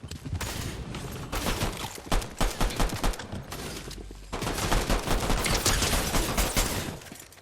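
Fortnite video game gunfire crackles in dense rapid bursts of shots, loud and continuous, with a short lull before a second heavy volley of automatic fire.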